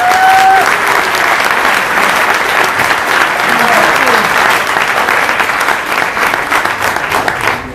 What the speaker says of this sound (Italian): cui rivolgiamo un applauso